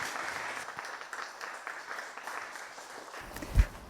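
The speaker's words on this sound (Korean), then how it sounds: "큰 박수로 모시기 바랍니다." Soft, distant audience applause at a Buddhist meditation camp welcoming the monk Muyeo, steady and faint, ending with a single low thump.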